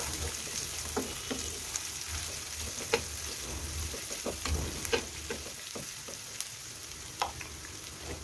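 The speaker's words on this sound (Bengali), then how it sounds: "পেঁয়াজগুলোকে রসুনের সাথে ভালো করে 2 মিনিট সময় ধরে ভেজে নিতে হবে।" Four chopped onions fry with garlic in a pan, crackling in a continuous sizzle broken by scattered sharp pops and clicks of stirring.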